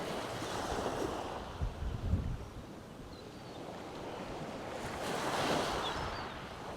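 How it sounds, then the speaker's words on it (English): Wind buffets the microphone at the shore of Pevensey Bay, gusting and rumbling over the wash of surf, with stronger bursts early on and again near the end. "that wind's picked right up and I'm now a tad chilly"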